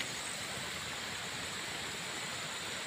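Steady broadband rush of flowing water, constant and fairly loud throughout with no voices, like a nearby stream or small waterfall.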